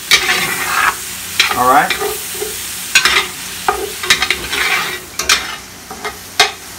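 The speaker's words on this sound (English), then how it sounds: "We're kind of scratching that pot. All that stuff's coming off our pot." Close stirring and scraping in a frying pot, with a spoon rasping against the metal amid a sizzling bed of frying, in uneven strokes and sharp knocks; a voice speaks briefly.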